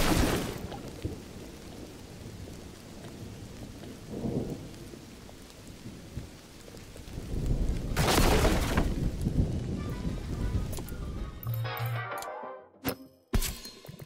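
A lightning storm in the magic-school management game Mind Over Magic brings steady heavy rain and rumbling thunder, with a sharp loud crack of thunder midway, then clattering breakage and a few short sounds near the end.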